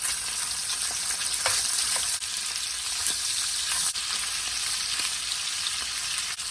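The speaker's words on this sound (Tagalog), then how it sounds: "ipiprito natin itong sausage dito sa oil ng bacon" Sausage frying in rendered bacon fat in a pan, a steady close hiss and crackle of sizzling oil with small pops throughout, no talking.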